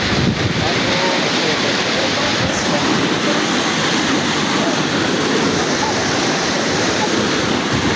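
Floodwater after rain rushes in a constant loud roar of flowing water, with no break across the whole stretch.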